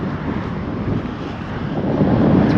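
Steady gusting wind rumbles against the microphone, a loud low roar that swells toward the end, with no voices.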